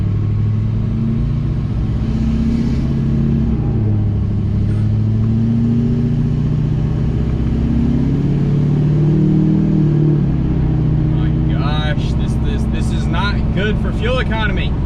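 A Duramax diesel pickup with a straight-pipe exhaust drives along, its deep droning rumble rising and falling as the engine loads up, loud and steady throughout, with someone talking over it near the end.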